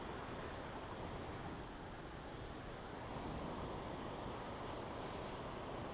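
Abbi Falls near Sakleshpura in the rainy season sends up a steady, dense roar of rushing water, loud and unbroken throughout with no voices over it.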